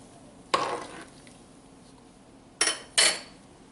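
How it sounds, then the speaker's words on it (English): Egg noodles are stirred in broth in a pot, with a few separate scraping clinks of a spoon against the pot over a faint quiet background. "And then I'll give it a stir."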